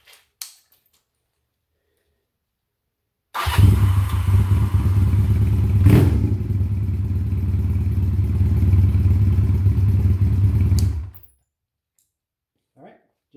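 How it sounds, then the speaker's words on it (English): A Honda Rebel 250 motorcycle engine cranks over after a valve adjustment and runs for about eight seconds with a loud, steady, close mechanical chatter, then cuts off into silence with brief knocks before and after. "I'm just going to make sure it cranks over."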